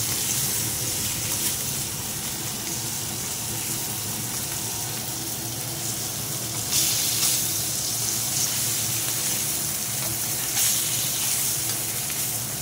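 Ilish fish pieces frying in hot oil in a kadai: a steady, dense sizzle and crackle holds throughout, close and fairly loud, with a few brief swells and no talk.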